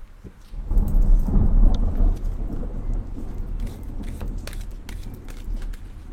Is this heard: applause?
no